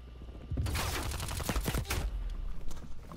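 Rapid bursts of automatic gunfire from the video game Call of Duty Cold War crack in quick succession, fairly faint, with short pauses between volleys.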